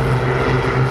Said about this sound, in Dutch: Wezenlijk mooi geluid is dit van deze vliegtuigen. Oud historisch. Motoren die ruim 40 jaar oud zijn.